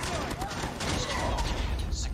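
Close, steady gunfire from Call of Duty Mobile in a Hardpoint-style HQ match, a dense continuous rattle of shots running through the whole moment with a voice talking over it.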